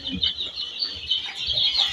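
Young Sonali chickens, nine days old, give soft repeated clucks and peeps at close range, an irregular chatter of small calls over a quiet background.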